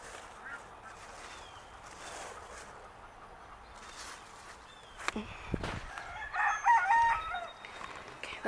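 Chickens cluck and a rooster crows in an outdoor homestead chicken pen, the birds fairly distant under faint background noise, with louder clucking bursts toward the end.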